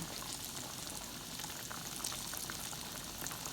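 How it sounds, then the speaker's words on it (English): Green tomato slices fry in hot oil with a steady, close crackling bubble that holds even throughout, no voices. "Gently lay them down in the oil. Let them fry."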